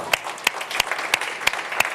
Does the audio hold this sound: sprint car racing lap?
no